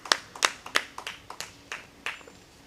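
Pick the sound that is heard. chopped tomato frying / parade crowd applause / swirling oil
parade crowd applause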